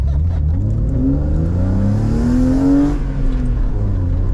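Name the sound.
BMW E36 engine revving at full throttle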